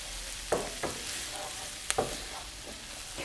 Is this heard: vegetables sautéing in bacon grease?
yes